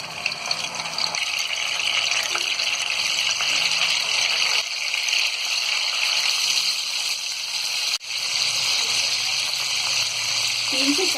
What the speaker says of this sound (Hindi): तो कबाब हम यहाँ स्लो फ्राई कर रहे हैं।